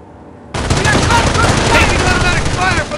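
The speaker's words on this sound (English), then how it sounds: "Taking automatic fire from the hedgerow." Automatic gunfire from a hedgerow in the video game Company of Heroes, a sudden dense burst that starts loud and stays sustained, with rapid overlapping shots and a shouted voice over the clatter.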